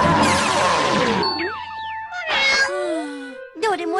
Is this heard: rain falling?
no